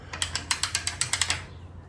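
An old hand crank on a jon boat trailer winch clicks through a quick, even run of about ten loud metallic ratchet clicks, close by, then fades out.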